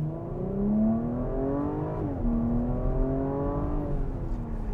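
A 2020 Porsche Cayenne Coupé accelerates hard from inside the cabin, engine rising in pitch through a gear, dipping at the shift, then climbing again as a steady loud drone with no talk.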